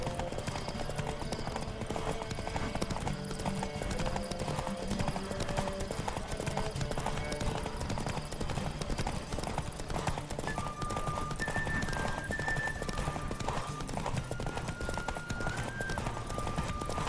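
Galloping horse hooves clip-clop steadily and close during a race in The Witcher 3, with a horse whinnying briefly and game music and effects filling the background.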